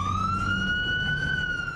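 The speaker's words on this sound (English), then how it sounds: "The scream of a siren" A police siren wails close by, one long rising tone sliding smoothly upward over a low rumble of traffic, loud and without any voices.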